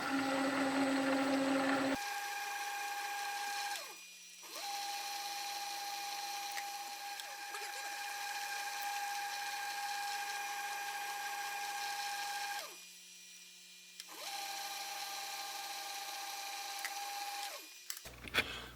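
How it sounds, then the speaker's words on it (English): A milling machine spindle cuts 1/4-20 threads in a workshop, a steady tonal whine that stops and restarts several times with brief pauses between runs, no talking. "why I don't tap on the mill, I do sometimes."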